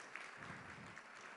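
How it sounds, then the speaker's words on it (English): An audience at a 20th anniversary event for the Marshall Decision gives a brief round of applause, soft and distant, a short even patter of clapping. "round of applause for those"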